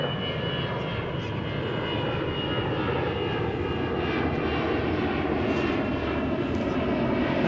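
A Frontier Airlines Airbus A321 takes off from Dallas–Fort Worth airport, a steady loud jet engine roar with broadband rumble holding constant throughout, heard from a spotting position without talk.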